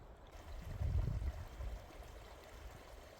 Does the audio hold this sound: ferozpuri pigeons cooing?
no